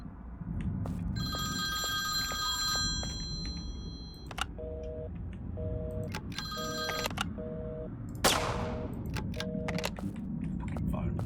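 A telephone bell rings in repeated short bursts, loud and close, cutting through a steady background of game-like electronic tones and beeps, with a sharp crash near the end.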